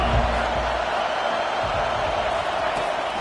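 Stadium crowd noise in the College Football 25 video game, a steady, dense roar of cheering fans that holds at an even level throughout, with no commentary over it.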